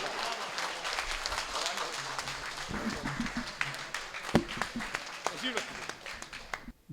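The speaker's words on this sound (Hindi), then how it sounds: "जोरदार तालियों से।" Applause from an audience at a mushaira poetry evening in Deoband, a dense steady clapping wash lasting several seconds, with scattered voices and speech-like sounds mixed in.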